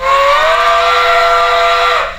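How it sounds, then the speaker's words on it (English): An L&N Passenger three-chime steam whistle sound played back from a SoundTraxx model-train decoder app: one loud, sustained, steady chord that lasts about two seconds before cutting off, with no voices over it. "The app automatically played the sound for me, so I don't have to keep cycling back and forth to listen to the whistle"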